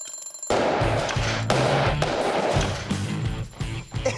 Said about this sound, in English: Alarm's still going.